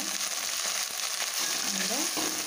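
Ground fenugreek curry paste frying in oil for a Tamil vendhaya keerai kuzhambu, a dense continuous sizzle close up with a few soft stirring scrapes and bubbling pops.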